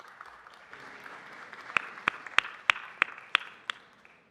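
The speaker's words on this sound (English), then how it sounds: "One more round of applause for both these amazing organizations" Scattered applause from a small council chamber audience, a few distinct hand claps standing out in a quick uneven run over a soft bed of lighter clapping, fairly close and modest in volume.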